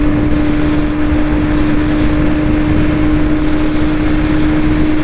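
A Bajaj Pulsar NS200 BS6 motorcycle runs flat out at top speed in fifth gear, its engine giving a loud, steady, unbroken drone mixed with rushing wind, and no one speaks.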